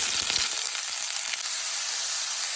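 Sliced onion hitting hot oil in a pan, a loud, steady close sizzle with a brief clatter at the start, continuing without talk.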